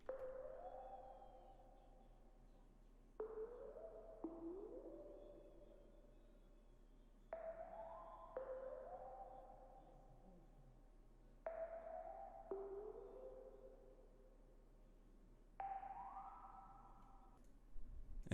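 Lofi melody one-shot sample plays a repeating phrase whose notes slide down and away, each new note entering with a crisp attack roughly every four seconds, with reverb and trimmed lows and highs over a quiet steady low hum.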